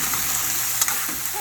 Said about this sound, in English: I just add the water when it starts to stick.